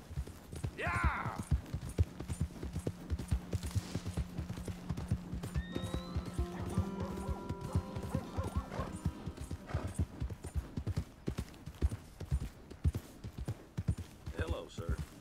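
In the Red Dead Redemption 2 video game, horse hooves clip-clop in a brisk, steady rhythm, with a brief whinny near the start and tonal game sounds, while voices talk underneath.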